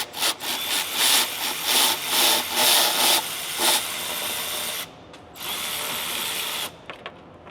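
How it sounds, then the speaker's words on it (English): Rapid bursts of a hand ratchet backing out the last transmission pan bolt on a Ford 10R140, clicking loudly in several runs, then fainter after a short pause, with no talking. "We're gonna take this last bolt out."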